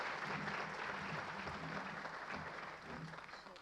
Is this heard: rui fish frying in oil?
no